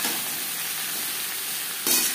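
Chopped chal kumro (ash gourd) is stirred into hot oil with mustard tempering spices in a pan, giving a steady close sizzle with a brief louder hiss of frying at the end.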